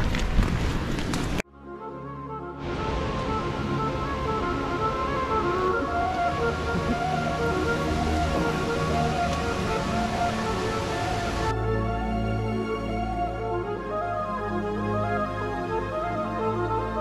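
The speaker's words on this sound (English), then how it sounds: "Let's go see this waterfall." Grotto Falls, a waterfall on a mountain creek, gives off a steady broadband rush of falling water that carries on loud and unbroken for most of the stretch, after a short burst of other noise at the very start.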